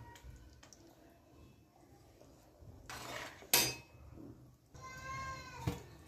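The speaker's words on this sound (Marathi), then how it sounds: "त्याच्यावर झाकणी ठेवून घेते मी" A lid is set on a pan of pav bhaji cooking on the stove. It lands with one close, sharp metallic clatter mid-clip, followed by a ringing tone and a light clink.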